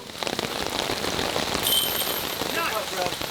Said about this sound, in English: The rain's really starting to pick up.